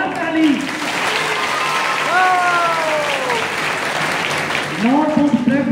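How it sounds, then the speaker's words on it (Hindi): An audience at a stage welcome ceremony for a member of parliament breaks into loud, sustained clapping, with a voice speaking over it at times. "एक बार जोरदार ताली।"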